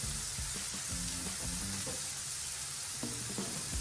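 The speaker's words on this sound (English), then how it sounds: "Mushrooms still cooking nicely." Mushrooms frying in a pan while preparing a low-calorie pizza, giving a steady, close sizzle and hiss with soft crackles throughout, no talking.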